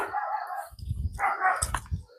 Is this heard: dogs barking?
yes